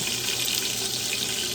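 Hot water runs steadily from a kitchen tap into a bowl while cooking Jamaican oxtail, a continuous close hiss and splash with no talking.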